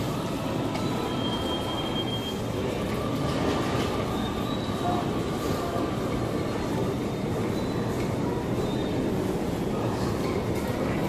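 A metro train runs at the new Guangzhou airport terminal, a loud steady rumble with wheel squeal and faint clatter filling the whole stretch, close and continuous.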